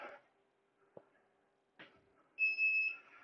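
A workout interval timer during a bodyweight and resistance band session gives a few short electronic beeps, then a steadier tone near the end, fairly quiet with no talking.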